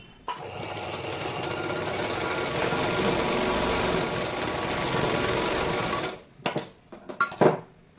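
A sewing machine stitching the fitting seams of a blouse, running in one steady close whirring burst for about six seconds before stopping, followed by a few handling clunks.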